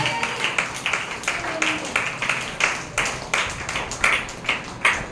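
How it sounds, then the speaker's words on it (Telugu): A congregation at a revival anointing worship service claps in a steady rhythmic beat, about two claps per second, with a voice speaking over the clapping. "చప్పట్లు కొట్టి"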